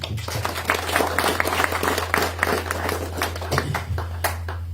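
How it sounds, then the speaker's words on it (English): Applause from a crowd at an official inauguration ceremony for a cemetery morgue, greeting the Minister for Health; steady dense clapping over a constant low hum, moderately loud throughout. "A good round of applause."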